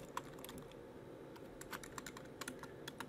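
Computer keyboard keys clatter in quick irregular taps as text is entered into GIMP, close and quiet over a steady low background hum.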